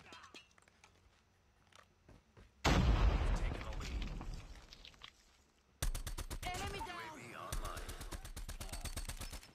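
Weapon fire in the Call of Duty Mobile video game: sudden loud bursts of rapid automatic shots, a heavy blast, then a fast regular string of gunfire, with game sounds throughout.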